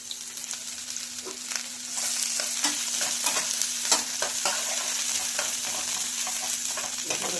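Onions frying in hot mustard oil give a steady close sizzle with scattered crackles and occasional stirring scrapes, no voices.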